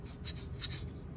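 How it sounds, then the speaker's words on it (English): Sandpaper rubbed by hand over a carved wooden owl's tail feathers, giving soft, close rasping strokes in a steady back-and-forth rhythm, alone without talk. "you get some sandpaper, hand sanding it"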